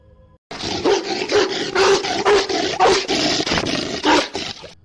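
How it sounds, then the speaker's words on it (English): A bear charges toward the camera at close range while growling, a series of loud, rough, pulsing growls and snarls in quick succession, each burst harsh and throaty, starting abruptly after a moment of silence. "Its intense growls send shivers down your spine"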